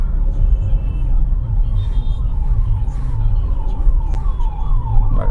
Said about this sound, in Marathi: नशीब ती ॲम्ब्युलन्स पलीकडच्या रस्त्यातून जात होती, तो रस्ता मोकळाच होता